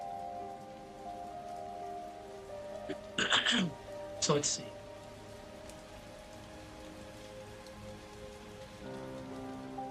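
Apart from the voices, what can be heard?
rain falling, from a video game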